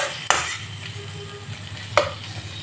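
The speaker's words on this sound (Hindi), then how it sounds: "चलिए मसाला के चलाते हुए जब तक ले तेल ना छोड़ी तब तक ले भूजा जाला।" Masala with tomatoes fries in oil for an Indian soybean curry, a soft steady sizzle broken by two sharp scraping strokes of a spoon against the pan; nobody talks.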